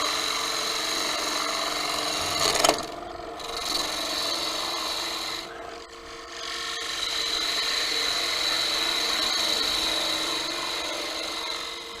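A woodturning gouge rides its bevel across a recess in spinning wood on a lathe, giving a steady, close, continuous rasping cut that pauses briefly twice before resuming at full strength.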